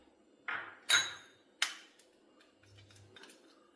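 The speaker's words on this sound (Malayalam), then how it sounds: "ഈ തേനും കാപ്പിപ്പൊടി ഒക്കെ നന്നായിട്ട് മിക്സ് ചെയ്യുക" A spoon mixes honey and coffee powder in a bowl, giving a few separate bright clinks and taps against the rim in a quiet room.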